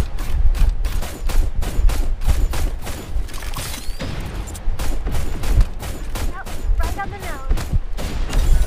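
Gunfire in the video game Super Mecha Champions, with rapid repeated shots in a fast rhythm through the whole stretch and some mechanical game sounds mixed in.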